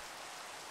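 Steady rain hiss in the Minecraft video game, a soft, even wash of falling drops with no breaks or other sounds, faint and continuous throughout.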